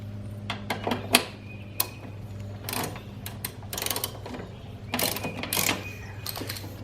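Ratchet loosening the wheel mounting bolt on a self-propelled lawn mower, heard as a few scattered bursts of clicking and metallic handling with pauses between them, over a steady low hum.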